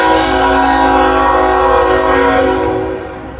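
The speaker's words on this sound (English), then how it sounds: "I'm leaving town and I hear a train horn." A Norfolk Southern freight train sounds its horn near a station, a loud, sustained multi-tone chord blaring close by for about three seconds before starting to fade.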